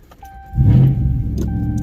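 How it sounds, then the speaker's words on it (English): A Ram pickup with a forged 392 V8 and Whipple supercharger cranks and fires up, settling into a loud, rumbling idle after a brief warning chime and jingle of keys. "Let's get a start up in the Ram."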